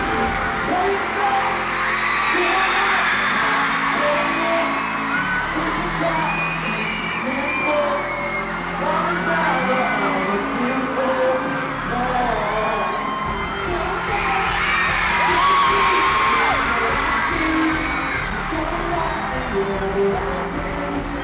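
Fans at the San Diego Comic Con 2015 One Direction panel scream continuously, a dense, loud crowd of high-pitched shrieks and whoops that swells again near the end, sustained with no pauses.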